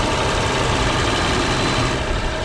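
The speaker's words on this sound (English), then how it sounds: "it's a 6-liter V12" A 6.0-litre V12 in a BMW 760Li 7-Series runs steadily, a dense, even engine hum and rumble held close and loud with no talk over it.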